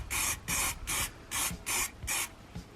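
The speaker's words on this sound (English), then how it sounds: "I've got some Genolite rust converter, so just going to hit it with that" Genolite rust converter sprayed onto a Ford Focus RS car underbody in six short, evenly spaced hissing bursts, close and crisp, with brief quiet gaps between them.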